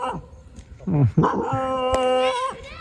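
A small, short-legged dog whimpers and lets out thin, high yips, its whine rising into a sustained tonal cry partway through, close by, with people talking around it.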